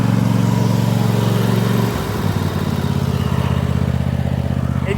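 Cub Cadet engine, previously smoking and low on power, now running steadily close by with a throbbing low idle, a brief dip and change in tone midway, then settling back into an even rhythm.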